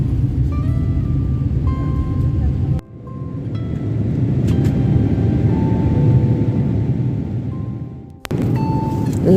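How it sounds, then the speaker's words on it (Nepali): A Qatar Airways airliner taking off from Kathmandu, heard from inside the cabin as a loud, steady low engine roar with a brief dip, a few faint clicks and tones above. "अब अहिले चाहिँ टेक अफ गर्दैछ है प्लेनले"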